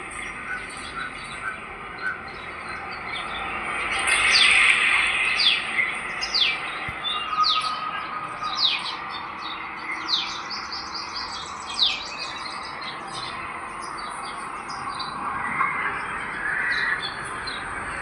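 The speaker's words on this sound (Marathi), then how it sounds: "पक्ष्यांचा कालवा चालू होता" Birds chirping outside a home gallery: many small birds trill and tweet in overlapping bursts at a moderate distance, forming a continuous chorus over steady background noise.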